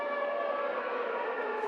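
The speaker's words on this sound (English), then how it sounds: "The sirens are coming." A civil defense siren wails steadily at a high school football game, a sustained droning tone that holds loud and unbroken, with no voices over it.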